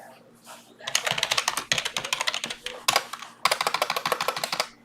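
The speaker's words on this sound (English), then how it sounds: "what the hell's going on with my typing?" Typing on a computer keyboard, close and fairly quiet, with rapid bursts of key clicks in uneven runs separated by short pauses.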